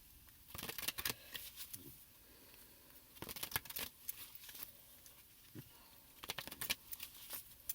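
A deck of cards being shuffled by hand, quiet riffling bursts in three or four separate rounds with soft pauses between, close and faint in a still room.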